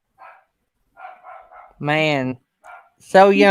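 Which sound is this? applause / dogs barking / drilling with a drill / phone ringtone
dogs barking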